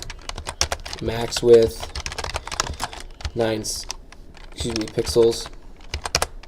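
Computer keyboard keys clack in quick bursts as code is typed, the tapping close and fairly crisp, interleaved with someone speaking between and over the keystrokes.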